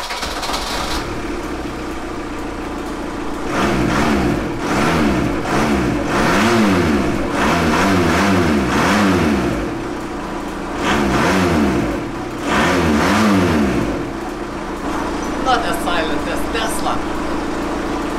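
A VW T3 Syncro van with a converted 1.9 TDI AFN diesel engine is revved in several loud bursts, the pitch sweeping up and down over a steady idle between them.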